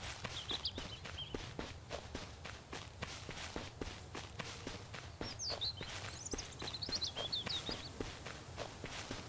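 In the survival game Mist Survival, a character sprints with rapid, evenly spaced footsteps on the ground, moderately close, alongside faint bird chirps in the background and no talking.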